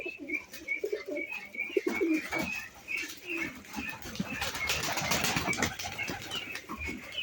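Pigeons coo repeatedly in a loft, their low throaty calls layered and overlapping at close range, with occasional wing flaps and faint chirps in the background.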